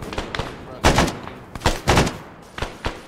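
Gunfire in the Arma military video game, with repeated loud bursts and single shots in an irregular rhythm, fairly close, and no talk over them.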